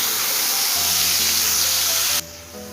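Ground ginger spice paste dropped into hot oil with turmeric gives a loud, steady sizzle and hiss that cuts off sharply and then settles lower, with a voice speaking over it.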